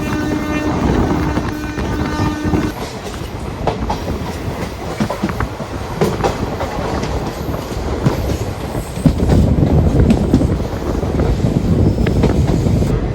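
Jan Shatabdi express train in a general coach gathering speed, loud continuous rumble and clattering of wheels on track with wind buffeting the microphone, growing heavier toward the end.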